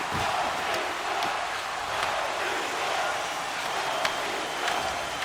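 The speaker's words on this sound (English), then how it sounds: "And the whole crowd is loving this." A hockey arena crowd in the video game NHL 26 cheers and roars in a continuous dense wash of noise, steady throughout with a few faint sharp knocks mixed in.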